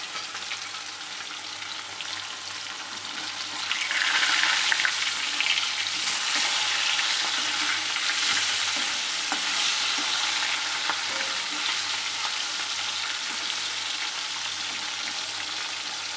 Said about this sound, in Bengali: এবার আমি মাছটা ভেজে নিচ্ছি